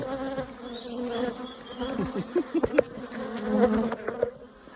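Angry bees swarm around an attic hive, a dense close buzzing drone that swells and dips as insects fly past near the listener, loud and continuous with no voices.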